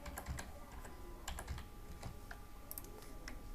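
Light, quick clicking of keys on a computer keyboard as a student's name is typed into an Access database form, irregular taps over a steady low room hum, no voices.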